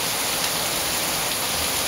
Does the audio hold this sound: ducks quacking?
no